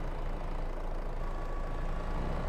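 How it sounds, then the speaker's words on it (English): A truck engine idles in Farming Simulator 22, a loud, steady low rumble that runs without change and is heard alone. "I hear that the truck is still running the engine."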